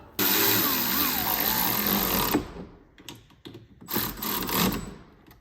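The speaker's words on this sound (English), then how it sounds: "Sometimes it helps to have battery operated tools." A cordless power tool whirs loudly for a couple of seconds, then short bursts of driving bolts for an LED light mirror on a Polaris Ranger UTV, clicking with pauses between.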